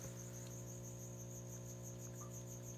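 A few small feeder crickets tossed into a crested gecko enclosure keep up a quiet, unbroken rhythmic chirping, heard alone above a soft steady hum.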